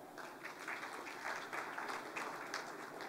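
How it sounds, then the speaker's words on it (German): Weak, tired applause from a conference audience in Nuremberg, faint and thin clapping that stays subdued and even throughout. "Wie klingt ein Applaus der Stufe 1 in Nürnberg?"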